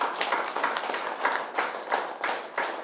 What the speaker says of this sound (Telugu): ఈ దంపతులకు గట్టిగా చప్పట్లు కొడదాం